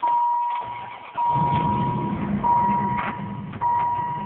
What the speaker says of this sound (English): Okay, car starts right up.